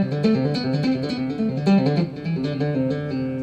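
Tapped bass guitar notes run in steady three-note triplet groupings, a bright repeating pattern of clear pitched plucks heard alone at close range.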